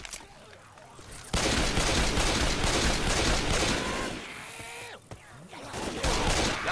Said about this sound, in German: Wie lange dieses Nachladen dauert, ey.